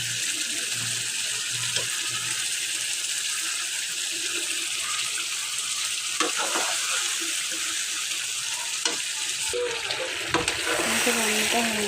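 Ghee sizzles steadily in a hot pan while rohu fish curry cooks, a continuous close hiss broken by a few clinks of stirring, with a voice briefly heard near the end.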